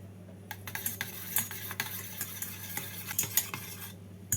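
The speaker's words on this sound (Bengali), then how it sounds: "টক দইটাকে নুন দিয়ে ভালো করে ফেটিয়ে নেব" Sour yogurt being beaten with salt in a bowl for a cauliflower roast, a steady run of quick scraping, clinking strokes against the bowl, close and fairly loud with no talk.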